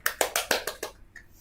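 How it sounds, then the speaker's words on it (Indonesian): Hands clap in a quick, even run of about six sharp claps that quickly dies away, as applause for the top 20 winners at a 2020 design awards event. It is fairly close, with no voices over it. "Mari kita tepuk tangan untuk menyambut itu semua."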